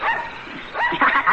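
Wild dogs bark and yip in a radio drama scene, a cluster of excited, high-pitched barks that are moderately loud and close, growing busier toward the end.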